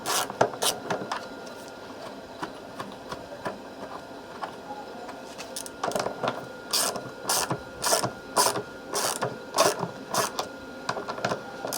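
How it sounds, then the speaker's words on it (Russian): A ratchet with an 8 mm socket unscrewing the nut on a heating element of an Indesit washing machine tub, producing bursts of quick, close clicking ratchet strokes, sparse at first, then rhythmic and repeated. "Сначала откручиваем головкой гайку не до конца."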